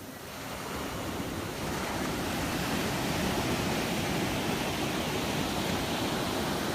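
Shorebreak surf at Kua Bay roars in a steady, dense wash of breaking waves, close and continuous with wind noise on the microphone and no voices.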